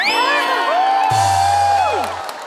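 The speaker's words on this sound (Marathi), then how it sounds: "एकदा जोरदार टाळ्या, जोरदार टाळ्या माझ्यासाठी" A crowd whoops and cheers loudly at a dandiya festival stage show, with rising shouts and yells, continuous for a couple of seconds.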